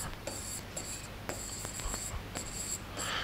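Pen or marker scratching across paper or a board during a Hindi grammar lesson on gerunds, irregular short strokes over several seconds with a steady low background hum, no talk.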